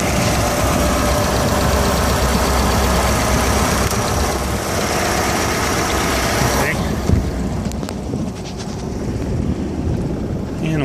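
A MerCruiser 140 hp four-cylinder inboard/outboard boat engine runs with a steady, dense mechanical drone that holds loud and even before easing slightly toward the end, with no talking.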